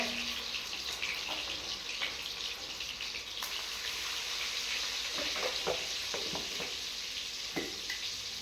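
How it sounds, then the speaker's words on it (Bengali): Sliced potatoes frying in hot oil with salt and turmeric in a pan on a traditional home cooking stove give a steady, continuous sizzle throughout, with a few faint clinks. "নুন আর হলুদ দিয়ে এবার আলুগুলো ফ্রাই করে নেবো একটু।"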